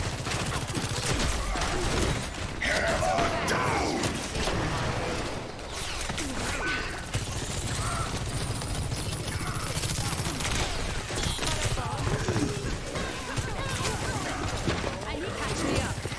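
Sojourn's railgun fires in Overwatch 2 amid a busy fight, with sharp shots and bursts of gunfire crackling over a constant mix of game effects and voices.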